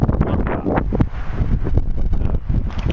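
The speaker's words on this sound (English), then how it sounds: "Beautiful breeze, as you can probably hear." Steady wind gusts across an open sandy hilltop ridge on a canyon rim trail, a loud continuous rushing roar with buffeting bursts against the microphone.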